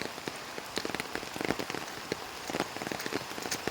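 Steady rain pattering on a surface, with dense close drops and scattered sharper hits, no voices.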